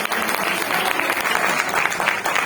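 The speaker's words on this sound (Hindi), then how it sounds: "जोरदार तालियां राय साहब के लिए।" Loud audience applause at a live satirical poetry recital, dense continuous clapping from a crowd close by, filling the whole moment without any voices.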